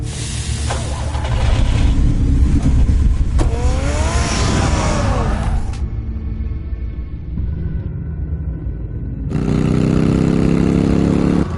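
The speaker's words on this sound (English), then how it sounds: "Get the car ready, Alfred." Batman's car in a Telltale Batman video game drives off with a loud engine revving and accelerating, a sustained roar that shifts in pitch and then settles, with no talk.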